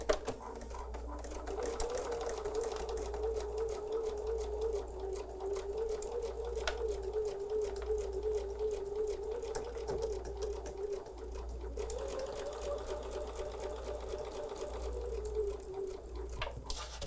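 A sewing machine stitches through thick layered fabric at a slow, steady pace, its rapid needle rhythm and motor hum running continuously up close for the whole stretch with a brief slowdown midway.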